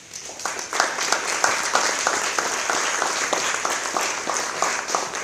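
Conference attendees at a sports integrity event clap for the Portuguese Olympic Committee, a full, lively round of many hands with a slightly rhythmic pulse, steady and close throughout without talk.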